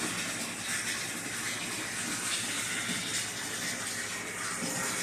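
Water pours into an aquarium being filled for a leak test, a steady, broad rush that continues evenly throughout.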